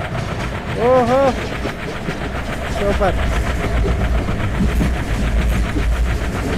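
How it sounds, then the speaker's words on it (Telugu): Train running along the track in the Indian Railway Train Simulator mobile game, a steady rumbling track noise with a horn-like tonal call near the start, heard under a man's brief excited speech. "ట్రాక్ సౌండ్ అయితే బాగుంది"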